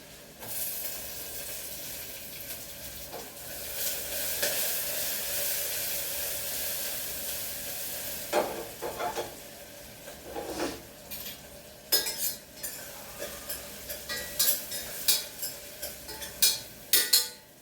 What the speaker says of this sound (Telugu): ఉల్లిపాయలు పచ్చిమిర్చి అయితే బాగా వేసుకున్నాయి